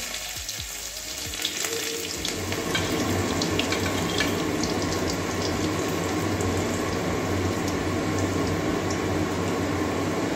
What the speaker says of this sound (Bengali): লাল লাল করে ভেজে নেবো রসুনটা।